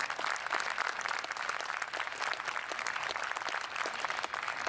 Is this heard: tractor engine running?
no